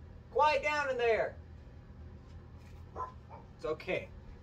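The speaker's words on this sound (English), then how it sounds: "They're just barking for no reason. They're supposed to be guard dogs." A dog barks and yelps in a sharp burst, then a few more scattered barks follow, moderately near, with quiet gaps between.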